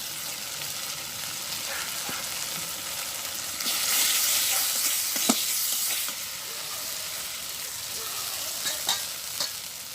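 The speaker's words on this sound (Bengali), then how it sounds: "মশলা কষানোর জন্য একটু লবণ দিয়ে দিচ্ছি আর দিয়ে দেবো সামান্য একটু হলুদ মরিচের গুঁড়া" Spices frying with salt, turmeric and chili powder in a village kitchen pan make a continuous close sizzle and hiss, with the sizzle swelling midway and light scraping stir strokes scattered throughout, and no voices.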